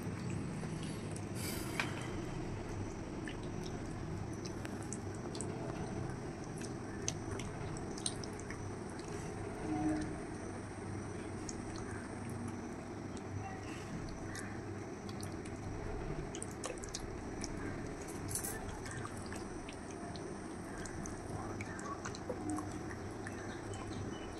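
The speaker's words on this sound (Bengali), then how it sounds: "মাছগুলোকে সুন্দর করে ভালো করে মাছের গায়ে মশলাগুলোকে মাখাবো" Bhetki fish being coated by hand with a spice paste and mustard oil makes a soft, steady, wet squishing and smearing that continues through the whole stretch at low volume, with no voices.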